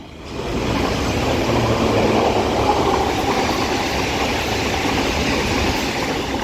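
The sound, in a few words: London Underground S8 stock train passing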